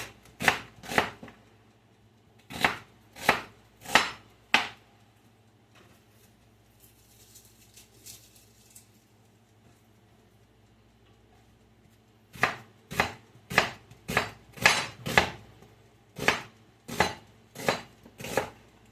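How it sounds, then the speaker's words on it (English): Knife chopping vegetables into small strips on a cutting board for a cabbage chicken Alfredo, close and crisp, in two rapid bursts of sharp rhythmic strokes separated by a quiet pause. "I'm just going to cut these into some small"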